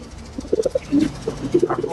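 Pigeons in a home loft give soft, rounded coos in short repeated bursts, close and fairly loud, with no talking over them.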